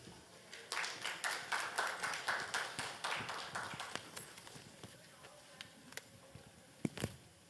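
An audience applauds a class 11 student presenter at a school model-project showcase, the clapping rising quickly into a steady round of claps that fades into scattered claps with a few louder claps near the end.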